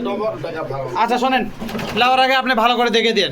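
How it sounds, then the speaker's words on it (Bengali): Pigeons coo at a bird farm in Bogura, their soft throaty calls running beneath close, continuous conversation between a buyer and seller. "নতুন কবুতর তো ডাকিচ্ছে"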